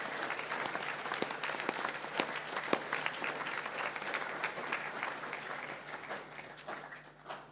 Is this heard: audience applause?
yes